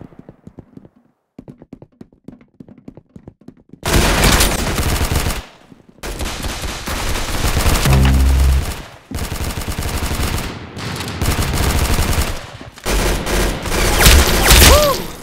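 Gunfire in the Roblox Arsenal shooter game, loud dense bursts of rapid shots broken by brief gaps, after a few seconds of quiet tapping clicks.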